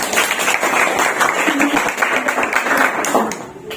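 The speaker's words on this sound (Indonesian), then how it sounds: "Kita kasih tepuk tangan dulu kelompok 3." A class claps for a student group after its presentation during a teacher training session, with brisk continuous clapping and some voices mixed in, close and fairly loud, tapering off at the end.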